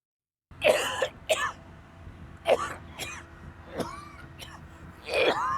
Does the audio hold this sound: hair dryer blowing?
no